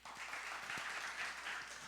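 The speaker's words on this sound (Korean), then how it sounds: "우리 주님께 감사의 박수 올려드리겠습니다." Thankful applause from a church congregation at an Easter Sunday service, a steady soft patter of many hands clapping at moderate distance for about two seconds, with no talk over it.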